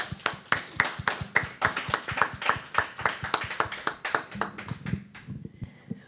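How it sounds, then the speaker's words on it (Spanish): A small crowd claps at a stage event in a rhythmic series of distinct, evenly spaced claps that carries on for several seconds and then fades out, leaving a low hum. "Un aplauso"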